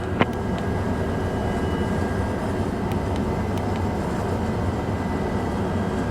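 Steady broadband engine drone from an aircraft taxiing in Microsoft Flight Simulator 2024, continuous and even throughout with a faint click near the start and no voices.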